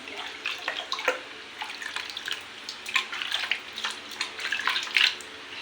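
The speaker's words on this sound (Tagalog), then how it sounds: "Ayan po yung tubig." Water runs steadily from a tap in a bathroom, with a continuous splashing hiss and small uneven spatters, close by and alone.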